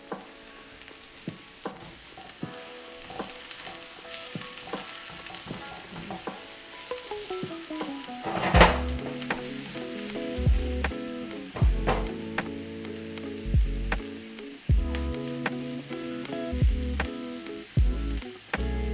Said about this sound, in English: we're just starting to get a little color on our garlic and our onions